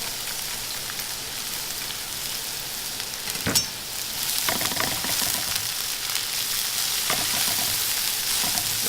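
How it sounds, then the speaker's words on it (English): Sliced leeks and a garlic clove sauté in a pan, making a constant hissing sizzle that swells with bursts of crackle as the pan is stirred. "Saute that up. I'm also going to do a clove of garlic in there."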